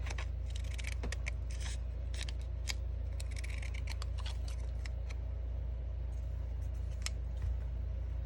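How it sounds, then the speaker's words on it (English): Pinking shears cutting along the long edge of copy paper, a run of crisp, close snips and crunching scrapes repeating in an uneven rhythm over a low steady hum. "we're just going to cut along one of the long edges. Just one side needs to have the zigzag, which is your pinking shears"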